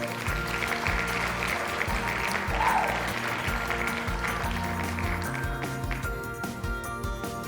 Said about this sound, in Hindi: बच्चों, हमारी मुन्नी के लिए एक जोरदार ताली हो जाए।